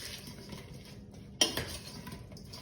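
Cauliflower tossed with sugar, salt and a mild curry in a bowl before roasting, giving a single clattering knock of utensil against dish midway and a few softer scraping stirs after, over a faint steady background hiss.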